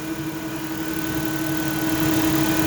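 Auxiliary cooling fans on a 2007 Mercury Mariner Hybrid blow steadily under the hood, a loud constant whirring hum with a fixed tonal whine and a slight swell toward the end, heard alone.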